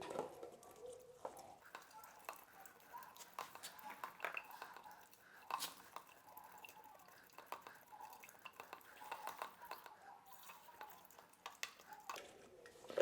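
Paint mixture thinned with turpentine being stirred in a container for a 3D granite decor finish: irregular scraping, sloshing and tapping strokes, quiet and close, continuing without talk.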